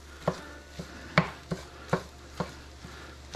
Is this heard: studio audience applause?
no